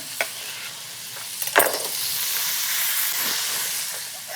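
Cut vegetables, about half-inch pieces, go into a hot pan for a green salad dish, with a clattering drop followed by steady sizzling frying and stirring hiss that continues to the end.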